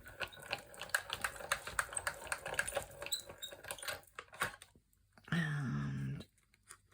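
A paper die-cutting machine with a plate and vellum: irregular light clicks and taps, then a short steady mechanical rumble of about one second as the plate rolls through, then quiet.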